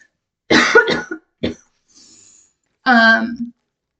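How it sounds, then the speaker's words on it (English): A few harsh, close coughs in quick bursts, a short pause with a faint breath, then a voiced throaty cough-like sound. "I got a cough, actually."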